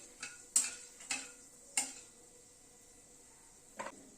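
Fenugreek seeds tempering in hot oil in a pan, a faint steady hiss broken by a handful of sharp, scattered pops and crackles, close and without talk.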